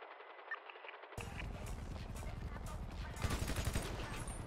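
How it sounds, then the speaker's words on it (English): Gunfire in a GTA V roleplay session: a burst of rapid shots crackles in over the game audio partway through, continuing as quick, fairly loud repeated bangs. "Who's shooting?"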